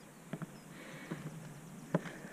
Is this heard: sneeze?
no